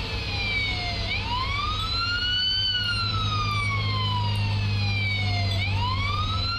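An ambulance siren wails in Police Simulator: Patrol Officers on a Las Vegas patrol, loud and close, its tone rising and falling in long sweeps over a low engine hum.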